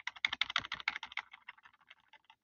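Arrow keys on a computer keyboard tapped in a quick run of crisp, close clicks, dense at first, then slowing and growing fainter.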